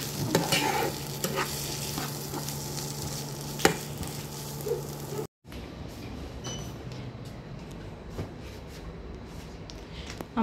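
Chicken filling cooked with a mix of sauces sizzles and fries in a pan while being stirred, with steady scraping and clinking of the spoon over a continuous frying hiss, the sound cutting off briefly midway before resuming.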